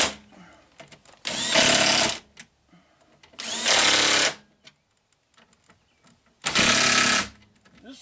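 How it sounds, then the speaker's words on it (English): A small, low-powered impact wrench works on the window regulator bolts of a Mercedes-Benz W116, firing three loud, close bursts of rapid hammering, each about a second long, separated by quiet gaps with faint handling noises. "this is a handy impact wrench"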